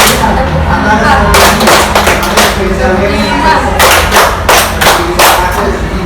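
Hand clapping in a classroom clap pattern, with a run of sharp, close claps followed after a short gap by another burst of rhythmic claps, loud and clear over a faint murmur of room noise.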